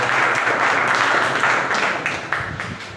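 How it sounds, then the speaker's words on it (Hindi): A crowd at a wellness company training meeting breaks into loud, dense applause that fills the room, then thins and tapers off into scattered claps near the end. "एक बार जोरदार ताली होती है आप सभी लोगों के लिए"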